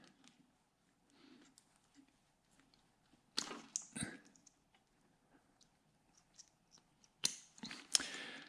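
Wire connectors being unplugged on a sawmill's wiring, a few sharp, close plastic clicks and snaps against a quiet background.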